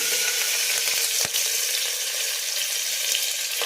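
Onions, spices and fenugreek leaves fry for chicken chops, making a loud, steady, close sizzle with a single faint knock of stirring partway through.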